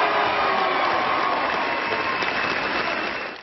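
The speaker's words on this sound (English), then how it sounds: "Eli taking on the tip-off, sending the crowd into a frenzy." A high school basketball crowd roars and claps steadily at the opening tip-off, a dense, loud wash of cheering and applause that holds throughout before easing slightly at the end.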